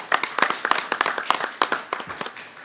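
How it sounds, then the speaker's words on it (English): At a city council meeting, a small group claps in sharp, distinct hand strikes, a brief scattered round of applause heard near and alone, thinning out toward the end. "We applaud you, Cliff."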